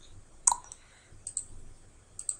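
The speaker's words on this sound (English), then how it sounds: "Sorry if you hear the clicking noise still." Sharp, isolated clicks sound during a Minecraft play session, a handful of brief close taps spaced irregularly over a quiet background.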